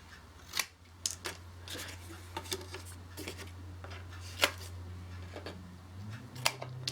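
Scissors snip paper album corners for a 6x6 mini album, a series of crisp, close cuts spaced irregularly over a low background hum.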